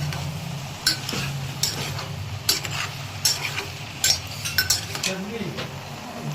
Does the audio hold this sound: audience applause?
no